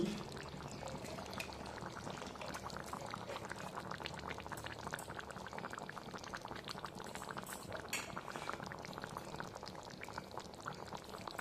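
A covered pot of jackfruit and shrimp curry simmers over a low gas flame, giving a steady, soft bubbling that continues evenly throughout without any speech.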